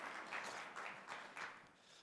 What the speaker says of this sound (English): Let's give Dr. Kagan and Dr. Jenner a round of applause